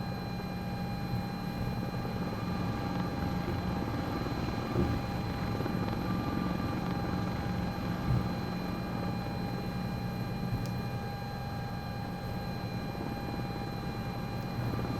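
A CowanSim S76 helicopter cruises at high speed in Microsoft Flight Simulator 2024, a steady droning rotor and turbine hum with constant tones that holds level throughout, with no talk.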